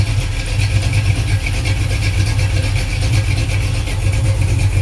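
Chevy 350 V8 engine idles on a run stand, a steady, loud, close low throb with an even lumpy pulse, continuous with no talking.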